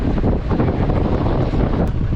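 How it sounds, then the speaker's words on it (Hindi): Cool mountain wind blows along the road to Sonprayag on the Kedarnath route, a loud, steady roar buffeting the microphone without pause, with no talking heard. "इस तरह से ठंडी ठंडी हवा चल रही है।"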